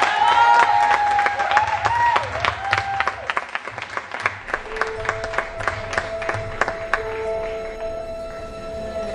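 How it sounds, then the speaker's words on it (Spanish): A live audience applauds and cheers at a concert, scattered claps mixed with crowd noise and sustained musical tones throughout, moderately loud and steady. "fuerte el aplauso"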